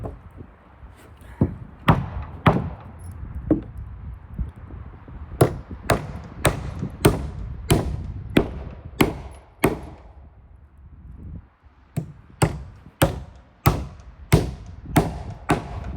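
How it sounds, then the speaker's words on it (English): Hammer blows drive nails through a board into a ceiling joist, sharp ringing strikes in quick bursts of several hits separated by short pauses, close and loud over a low background rumble. "I'm driving one Ardocs nail in the center of the board into the ceiling joist, and 2 on each end"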